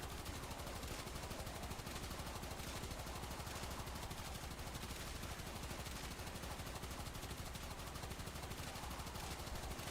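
Rapid, continuous gunfire from the Nell weapon in a video game, dense rattling shots packed together at steady loudness for the whole stretch, with no talk.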